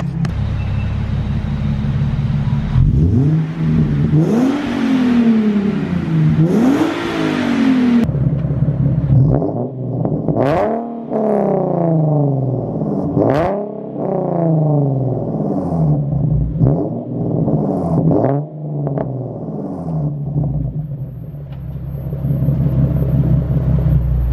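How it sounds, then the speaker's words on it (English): Repeated sharp throttle blips from a VQ engine with a loud catless exhaust, each rev rising and falling in quick bursts, close and aggressive over a constant rumbling idle. "finished the exhaust up and it's super loud"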